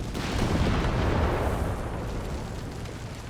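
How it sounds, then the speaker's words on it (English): A Flak 30 anti-aircraft gun fires in the Company of Heroes 3 battle game, producing a loud, dense roar of blasts that stays steady and then fades slightly toward the end. "there goes shooting through the side armor of the Chaffee there with a Flak 30"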